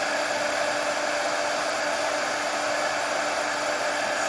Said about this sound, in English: Let's heat emboss that.